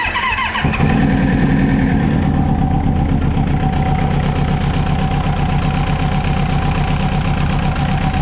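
A Kawasaki Ninja ZX7R motorcycle engine starts and runs steadily close by, its rough mechanical drone holding loud and even, then picking up slightly.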